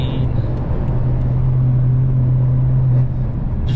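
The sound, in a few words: BMW F10 M5 with new exhaust driving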